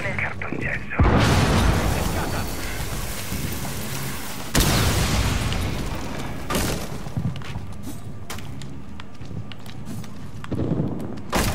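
Explosive breach blowing through a drywall wall in the tactical shooter Rainbow Six Siege, with loud booming blasts around one and four and a half seconds followed by crumbling debris and gunfire-like clatter, while players talk over the game.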